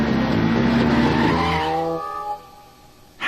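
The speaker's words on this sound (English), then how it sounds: "There appears to be a motorcycle on the racetrack." A cartoon motorcycle races along a racetrack with a loud engine whine that sweeps down in pitch as it passes, fades away, then a brief sharp burst at the end.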